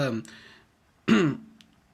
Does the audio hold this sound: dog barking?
no